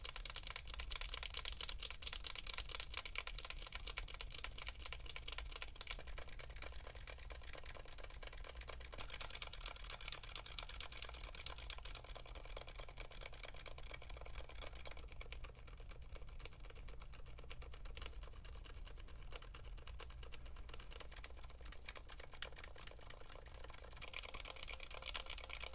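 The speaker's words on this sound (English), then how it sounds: "Take a listen along with a comparison with some other popular silent switches." Haimu Heartbeat silent linear keyboard switches typed steadily alongside other silent switches, giving a dense, continuous run of soft, muffled key clicks and thocks at close range with no talking.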